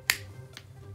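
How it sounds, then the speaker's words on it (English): A single sharp finger snap rings out close and clear, followed by a fainter second click in an otherwise quiet room. "When I count to three and snap my fingers, you will awaken"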